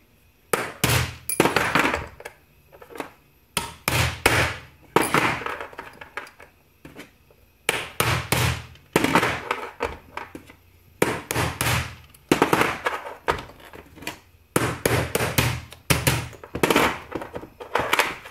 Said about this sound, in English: You want to punch it through. I'm doing this so I don't bend the rail.